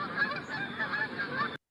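A flock of Canada geese honks in flight, with repeated nasal calls overlapping in a steady, moderately distant chorus that cuts off abruptly.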